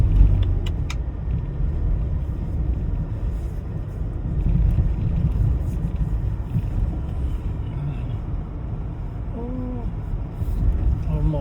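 A car driving over sand dunes, its engine rumbling steadily and loud throughout, close up, with a brief whine and a few faint clicks near the end.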